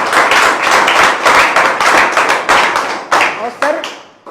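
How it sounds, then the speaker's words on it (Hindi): An audience at a networking business meeting breaks into steady, loud clapping that fills the whole stretch, with several accented bursts toward the end and voices mixed in. "चलिए इसके लिए जोरदार तालियां बजाई भाई,"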